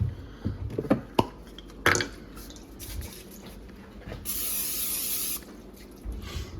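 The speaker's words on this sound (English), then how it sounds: "I'm gonna get some cooking spray." A steady hiss of aerosol spray lasting about a second, preceded by a few light clicks and kitchen clatter.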